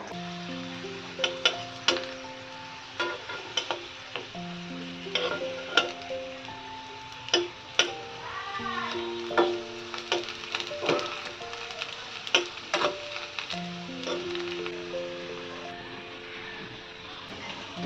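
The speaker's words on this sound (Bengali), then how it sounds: "আলু ভাজা হচ্ছে চাকা করে, ডালের সাথে খাওয়ার জন্য আলু ভাজা" Round potato slices frying in a pan on a home gas stove, a soft low sizzle under frequent sharp clinks and taps of a utensil against the pan, with scattered kitchen knocks.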